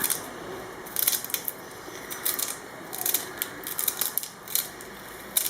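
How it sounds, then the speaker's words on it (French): Celery stalks are chopped with a knife on a cutting board for a pigeon soup, giving a series of crisp, irregular snapping cuts close by. "je vais rajouter également les 2 petites branches de céleri que je vais couper"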